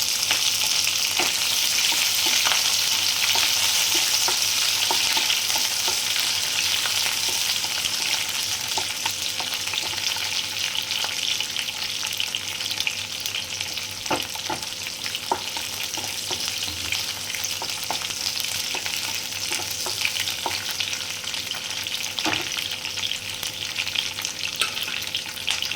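Continuous vigorous sizzling as green chilies and curry leaves fry in hot oil, steady crackle with scattered pops and occasional stirring clinks.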